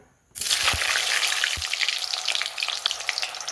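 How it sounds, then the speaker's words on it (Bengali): Potatoes dropped into very hot oil for a cauliflower and potato dish burst into a loud, sudden sizzle after a brief quiet moment, then keep up a dense crackling fry with a few low clunks, close up. "তেলটা খুব ভালো করে গরম হয়ে গেছে এইবার এর ভেতরে আলুগুলো দিয়ে দেবো"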